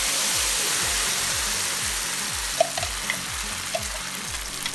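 Liquid lotus seed mixture poured into hot caramel and oil, giving a loud, steady sizzle and spatter with a repeating low rhythmic churn beneath and a few brief clicks, no voices.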